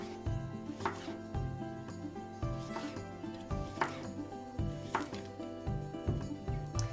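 A knife slices a cucumber very thinly on a board, with crisp cuts landing roughly once a second over a steady humming tonal background.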